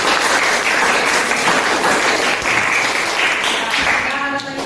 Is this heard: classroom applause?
yes